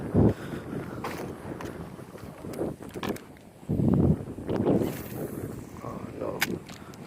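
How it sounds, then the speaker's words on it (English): Strong wind buffets the microphone beside an open golf course pond, roaring in uneven gusts with broadband rumble that swells and fades throughout. "There's so much wind here."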